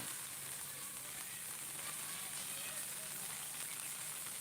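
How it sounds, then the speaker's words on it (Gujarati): Heavy rain falls in Akala village, a dense, continuous hiss of drops on surfaces, steady and fairly distant, with no pauses. "આજે લાઈવ પ્રસારણ વરસાદ જોરદાર વરસી રહ્યો છે"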